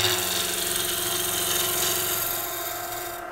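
A chisel shears steadily into spinning wood on a Coronet Herald woodturning lathe, a continuous close, loud rasping whir over the motor's hum that eases slightly toward the end.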